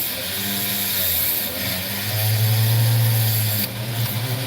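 A power tool cuts opal into small pieces, a close whining and grinding buzz whose pitch shifts as the blade bites, with a brief change in load near the end.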